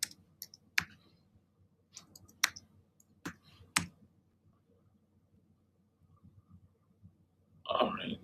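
Sparse, crisp keystrokes on a computer keyboard enter a short search term, a few isolated clicks separated by quiet gaps, followed by a brief burst of noise at the end.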